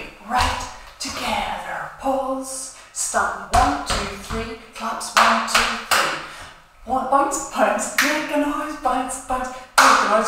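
Body percussion for a dance routine: sharp, rhythmic hand claps and slaps on the chest hit in quick even groups with brief pauses, while a voice calls out the counts over the beats.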